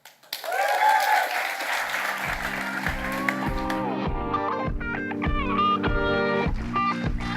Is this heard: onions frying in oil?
no